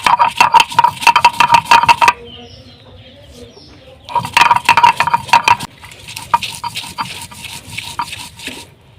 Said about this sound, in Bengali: এবার সব কিছু একসাথে আমি বেটে নিচ্ছি।